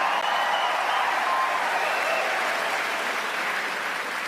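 A live comedy show's studio audience breaks into sustained applause, dense and even clapping at steady volume from start to finish, easing slightly toward the end.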